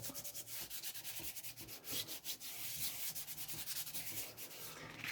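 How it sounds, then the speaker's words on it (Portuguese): A small paper art journal is sanded by hand in quick back-and-forth strokes, giving a close, soft, rhythmic scratchy rub with no talking. "Primeira coisa, lixar bem."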